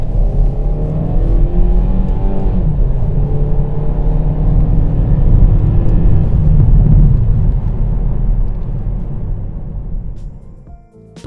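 A 2019 Kia ProCeed drives off with a steady, loud engine drone and rising gear-change whine that holds for about ten seconds before fading near the end.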